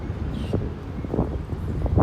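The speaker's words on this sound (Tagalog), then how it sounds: "Oh, grabe lakas ng hangin." Strong wind buffets the microphone in a steady rumbling roar at the Chiang Kai-shek Memorial Hall in Taipei, with gusty bursts throughout and a few faint rustles.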